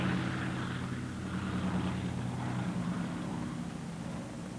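A Vickers Seagull military amphibian with a contra-rotating propeller drones at a distance, a steady low engine hum with propeller buzz running throughout under light background noise.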